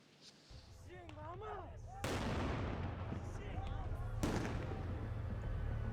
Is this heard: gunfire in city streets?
yes